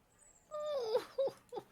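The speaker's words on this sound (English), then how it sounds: "there is that whine that immediately snaps forward. That canine whine. And sort of a low, very tiny howl." A dog gives a thin, high whine that slides downward, then two shorter whimpering yelps, close and fairly quiet with no voices over it.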